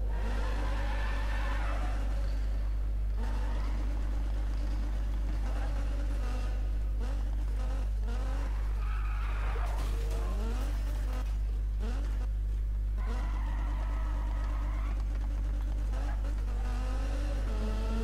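A car engine in Need for Speed revs and roars, steady and loud across the whole stretch, with a constant low drone underneath, shifting pitch sweeps and a few bursts that sound like skids or passes. No one speaks.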